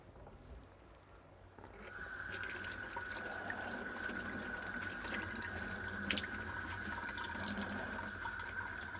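Water runs from a faucet over a bowling ball being rinsed, starting after a quiet moment and continuing as a steady rushing flow with a faint tonal whine in the plumbing, no talking.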